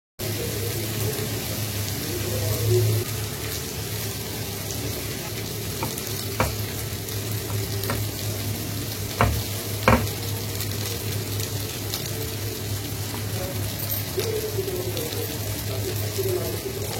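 Onions and green chillies frying in a pan, a steady close sizzle running throughout with a few sharp clinks and scrapes of a spoon.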